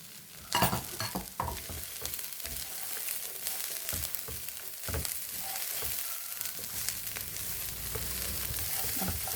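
Coconut sautéing in a pan with long beans, onion, carrot and green chilli makes a soft, steady sizzle, broken by scraping stirs and clatters from a spoon against the pan at close range.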